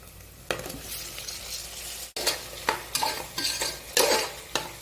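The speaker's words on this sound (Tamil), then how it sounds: "நல்லா பொன்னிறமாக வெங்காயம் நல்லா வதங்கணும்." Onions sauté in a pan for a home-cooked dal rice dish, a steady sizzle broken by repeated scraping stirs of a spoon against the metal, close and fairly loud.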